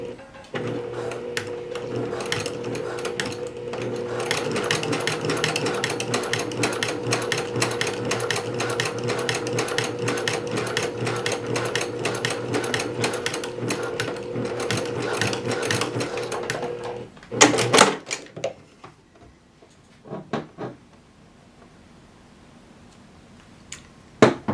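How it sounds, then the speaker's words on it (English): A sewing machine stitches a pants seam in a fast, steady, close-up mechanical chatter for about seventeen seconds, then stops. A few clicks and handling knocks follow in the quieter remainder. "I'm going to sew the back one first"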